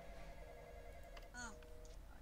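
Phone ringing inside a Roblox survival game, a brief electronic ring in the middle of the clip over steady game background tones, with a voice talking around it.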